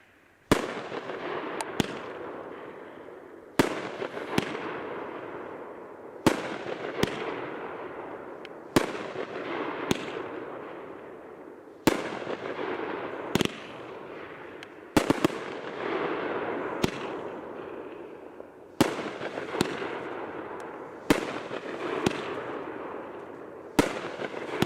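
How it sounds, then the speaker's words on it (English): Hammerhead, a 16-shot 4-1 value firework cake by Great Grizzly, fires repeated sharp launch thumps and booming bursts with crackling brocade tails, evenly spaced over about twenty-five seconds, loud and without talk. "Next item up is Hammerhead by Great Grizzly, another new item, a 4-1 16-shot, and this is also a value cake"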